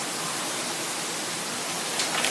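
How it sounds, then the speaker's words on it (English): Dense, steady hiss of heavy rain pouring continuously in Singapore, heard from a balcony, broadband and unbroken, with no voices. "And look at the rain."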